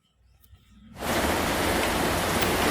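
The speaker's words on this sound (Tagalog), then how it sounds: "halos hindi makita yung kabilang kalsada sa sobrang lakas ng ulan" Heavy rain pours onto a street, starting suddenly after a quiet moment and swelling into a dense, steady roar that continues to the end.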